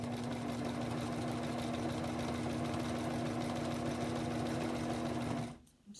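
Home sewing machine stitching a row across a quilt, a steady continuous motor hum with rapid needle chatter, close and loud, running alone for over five seconds before stopping abruptly.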